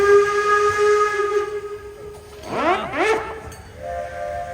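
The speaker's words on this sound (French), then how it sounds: "l'énergie 507 que vous voyez là, c'est d'abord annoncé avec son sifflet, et puis la coquerille lui a répondu en klaxonnant" A steam locomotive, the Energie 507 at the Train 1900 heritage railway, sounds a long steady whistle, and after a short pause a horn answers with two gliding blasts. A softer tone follows at the end.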